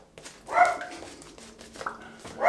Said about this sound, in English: I'm trying to anticipate his bark.